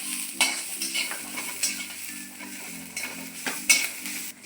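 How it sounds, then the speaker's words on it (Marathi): Garlic is stirred into a sizzling spice tempering for curd tadka, with repeated scraping spoon strokes against the pan over a soft, steady frying hiss, close and clear with no talking. "थोडा लसूण टाकूयात. चांगल्या पद्धतीने मिक्स करून घेऊ."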